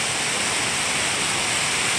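Katulkasa waterfall in the Keshkal area of Kondagaon, Chhattisgarh, drops from a great height with a loud, unbroken rushing roar that fills the whole scene.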